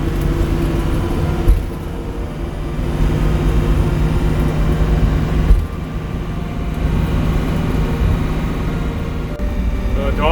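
A converted bus with transmission problems drives along, its loud, steady engine and road rumble broken by a couple of heavy clunks; there is no clear talk.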